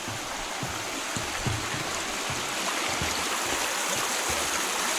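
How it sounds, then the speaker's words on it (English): A small stream flows along a hiking trail near a footbridge, a steady close rushing wash of water with faint low gurgles running throughout, no voices. "Nice little stream."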